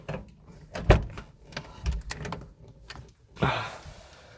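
A Mazda Miata car door, with a snapped key stuck in it, clunks and rattles with handle clicks and a final slam-like thud, heard close up without talking.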